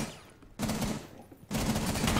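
Gunfire in the tactical shooter Rainbow Six Siege: two loud bursts of rapid automatic fire, separated by a short quiet gap.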